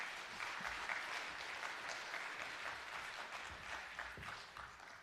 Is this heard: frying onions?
no